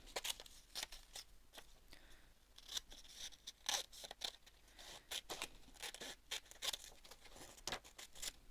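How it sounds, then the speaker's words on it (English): Scissors cut out stamped numbers and letters for DIY ring pull charms, a series of crisp close snips in an irregular rhythm with soft paper rustling between them, and no talking. "I'm going to cut out some of these numbers and letters that I've stamped on here."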